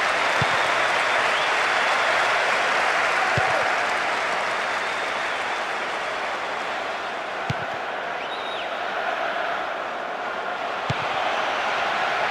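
A stadium crowd in the PS2 football game PES 2008 roars in a steady, dense wash of cheering and applause that holds loud and even throughout, with a few faint thuds beneath it.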